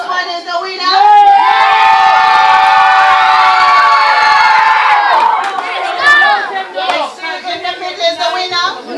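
A loud crowd of children cheers and screams together in a sustained burst at a community children's fun day cheer contest, then breaks into scattered shouts and voices.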